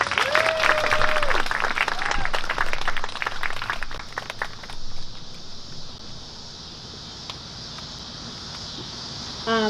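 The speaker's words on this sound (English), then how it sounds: "How about a round of applause for Beth?" Audience applause for a speaker at a centennial event, loud dense clapping for about five seconds that then fades into a quieter room with scattered claps.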